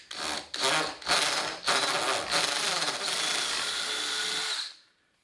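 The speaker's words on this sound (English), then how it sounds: "I'm going to drill through from this way" Power drill boring through a plate used as a jig on a cross member of a 2018 BMW R1200RT LC motorcycle, several short bursts then a sustained whining run of a few seconds, close and loud, stopping abruptly.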